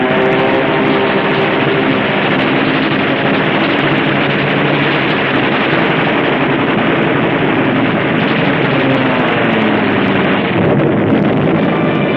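World War II aircraft in a strafing attack on German troops roar continuously, a loud, dense engine drone with rumbling blasts mixed in, sustained and unbroken throughout.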